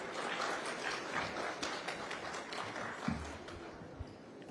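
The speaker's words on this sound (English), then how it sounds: "Let's welcome him with a big round of applause" Audience at a sustainability conference applauding the arrival of a minister, a steady fairly faint round of clapping that carries on without pause, with a couple of brief low thumps near the end.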